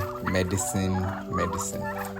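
Turkeys on an organic free-range farm gobble loudly in two close bursts of rapid, warbling calls, with no talk present.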